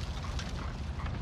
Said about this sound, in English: Gotta reload.